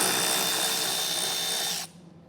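A power tool spins out 7mm screws from the plastic lower wheel-well trim on a 2024 Ford. It makes a loud, steady whirring buzz close by for about two seconds, then cuts off abruptly, leaving near silence.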